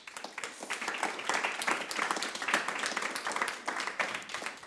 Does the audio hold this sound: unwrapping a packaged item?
no